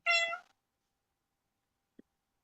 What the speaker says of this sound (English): I love the kitty cat voices in the background.